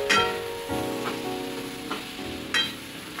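Potato pieces sizzle and crackle steadily as they sauté in hot, spiced oil. A few sharper stirring or scraping clicks stand out over the continuous frying hiss.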